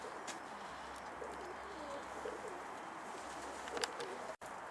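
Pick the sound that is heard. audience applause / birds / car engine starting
birds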